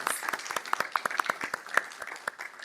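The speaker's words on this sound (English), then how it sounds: "Yeah, round of applause" An audience gives a round of applause at a science panel event, with many hands clapping in a dense, uneven patter at moderate loudness and a voice faintly present underneath.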